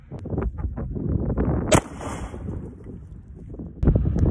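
A single sharp 9mm FMJ gunshot cracks out once midway, loud and brief, over steady outdoor wind rumble and light handling noises.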